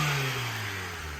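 Acura TSX engine heard from outside the car before an intake install, a mid-pitched rev that rises and then slowly falls away over about a second, moderately loud and without voices.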